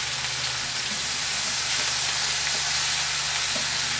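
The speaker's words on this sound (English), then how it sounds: "take 1 cup of the onions and put it in the frying pan" Onions frying in a pan for chicken biryani, a steady, even sizzle with faint crackle and a low background hum, continuous and close throughout.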